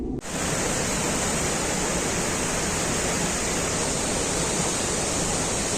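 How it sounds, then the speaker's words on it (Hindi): The Dhuandhar waterfall on the Narmada River near Jabalpur, Madhya Pradesh, roars as a steady, dense, loud wash of falling water that fills the whole stretch without a break. "इतना ज्यादा रोर करता हुआ ये वाटरफॉल बनता है नर्मदा रिवर पे।"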